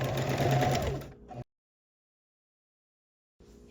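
Sewing machine stitching rows of a T-shirt blanket: a loud, close mechanical whir for about a second and a half, then abrupt silence before a faint restart at the end.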